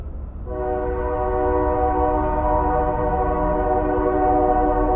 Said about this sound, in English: I heard the sound of the freight train horn echoing across the neighbourhood